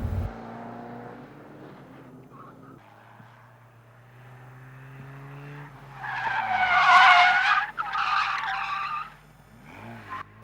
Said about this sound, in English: what you're learning to do is to hold the car in a skid,